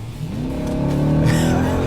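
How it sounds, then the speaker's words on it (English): A 2018 Jeep Grand Cherokee Trackhawk 4x4 SUV with an 8-speed automatic revs hard, its deep engine note climbing steadily in pitch and growing louder over two seconds, close and with no voices. "The engine is sweet with relentless power."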